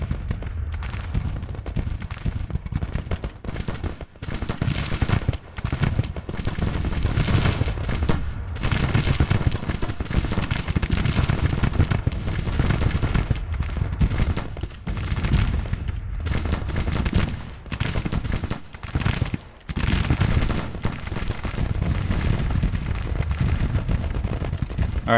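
A Civil War battle in the Grand Tactician strategy game roars continuously, with crackling rifle volleys and heavy artillery booms layered into a loud, dense wall of combat noise.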